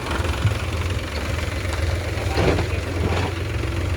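A tractor, just pulled free after getting stuck while hauling a sand trolley, idles close by with a steady low rumbling throb and no pauses.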